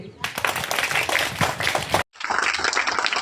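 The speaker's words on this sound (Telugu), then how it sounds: "అసలుగా మీరు చప్పట్లు కొట్టండి." Children at a street children's ministry gathering in Cherlakothur village clap in a quick, dense patter. The clapping stops briefly after two seconds and then resumes, with voices mixed in.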